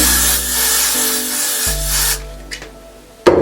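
A steady aerosol hiss of hair spray runs for about two seconds, close by, then cuts off, followed by quieter handling noises and a sharp click at the end.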